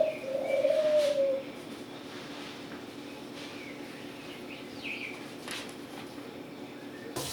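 A pigeon coos briefly and fairly close at the start inside a wild bird hospital on the Upper West Side of New York City, followed by a quiet room hum with faint chirps and small knocks.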